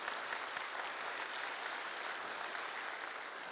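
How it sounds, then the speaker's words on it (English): Applause from a Chinese New Year concert audience after a guzheng performance, a continuous wash of clapping at an even, fairly soft level across the hall. "Give a round of applause to Yan Ni, ladies and gentlemen"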